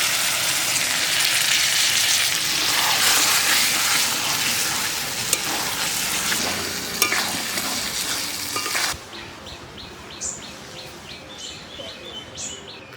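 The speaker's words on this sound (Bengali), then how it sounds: "জল দিয়ে দিচ্ছি।" Mutton in a pan sizzles loudly and steadily until water is poured in, when the hiss drops sharply to a quieter bubbling with faint stirring clinks.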